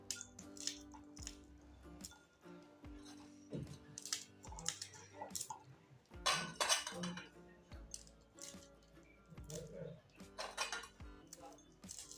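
Ginger and green chillies are pounded in a mortar, giving sharp uneven clinks and knocks with a hard, metallic ring, close by and fairly quiet, with no pause in the rhythm.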